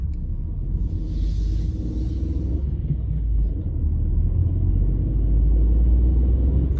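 A car pulls out onto a road on a Gillingham driving test route, a steady low engine rumble from inside the cabin that builds slightly as it moves off, continuous and fairly loud, with no talk.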